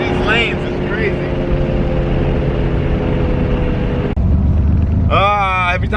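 A 1250whp RB30DET-powered car under hard acceleration, a loud, steady engine drone filling the cabin with a shift-like break near the end, and a voice talking over it.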